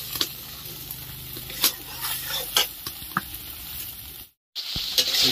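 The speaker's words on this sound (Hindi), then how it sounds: "देखिए मसाला हमको बढ़िया से मसाला को देर तक भून लेंगे, 10-15 मिनट तक मसाला भूनने से बढ़िया होता है।" Spice masala fries in a pan for a Chephua fish curry, a soft continuous sizzle broken by scraping stirs and clicks, with a brief dropout near the end.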